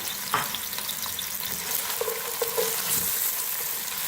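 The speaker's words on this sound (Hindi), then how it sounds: "प्याज को पहले थोड़ा सा फ्राई करेंगे गोल्डन ब्राउन" Steady sizzling and crackling of finely chopped onions frying in hot oil, with a few brief clinks and stirring sounds partway through.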